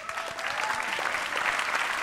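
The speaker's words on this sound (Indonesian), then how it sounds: "Tepuk tangan untuk Raditya Dika." A studio audience applauds for Raditya Dika with brisk, dense clapping, loud and continuous over two seconds, no speech on top.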